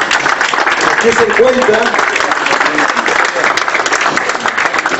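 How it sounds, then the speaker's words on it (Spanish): Strong applause from a municipal gathering honoring the archive coordinator, a dense steady roar of many hands clapping throughout, with a voice speaking briefly over it. "a quien también le pido un fuerte aplauso"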